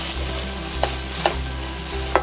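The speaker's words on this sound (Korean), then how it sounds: "어느 정도 다 날아갈 때까지 볶으시다가 마지막에 마요네즈 1큰술 넣어주세요." Dried shredded squid stir-fried in a pan with mayonnaise after the heat is turned off, giving a steady low sizzle with a few sharp scraping stirs of the spatula at intervals, close and without talk.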